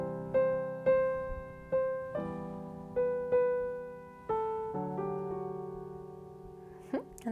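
Soft piano plays a phrase from a rock song, with a steady series of gently struck notes and chords ringing and decaying one after another, close and quiet with no talking.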